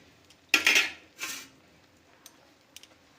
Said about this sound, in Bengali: চলে এবার এটাকে আমরা ছেঁকে নিচ্ছি।